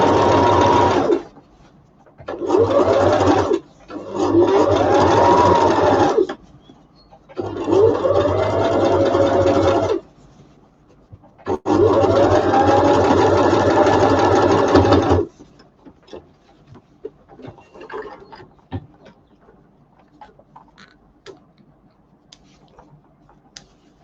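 A sewing machine stitches loudly and close in five sharp bursts of whirring, separated by short stops, then falls quiet with faint handling noise.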